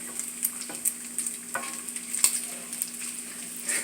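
Bacon frying in a hot pan, with a soft continuous sizzle and crackle plus scattered light scraping and stirring clicks close by, moderately quiet and without speech.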